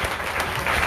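An audience at a Srimad Bhagwat saptah religious gathering in Baraut breaks into a brief, dense burst of clapping.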